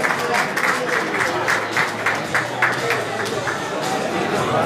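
A crowd at an athletics award ceremony applauds winners on the podium, with dense sustained clapping throughout and a voice speaking over it.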